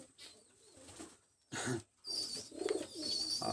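Soft golden pigeon coos and murmurs repeat close by, with a couple of louder bursts of fluttering or rustling in between.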